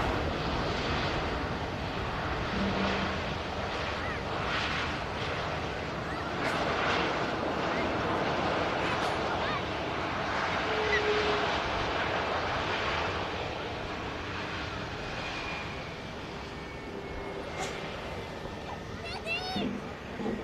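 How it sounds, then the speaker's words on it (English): A Pegasus airliner touches down at Manchester Airport, heard as a steady, loud broadband roar of engines and rushing air with wind buffeting the microphone for about twenty seconds. "Pegasus just touching down."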